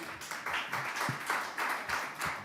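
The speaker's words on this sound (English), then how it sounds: "I want to clap my hand for you" Hand claps for a speaker at a conference on European Jewry, a short run of fairly regular, moderately close claps with no talk over them.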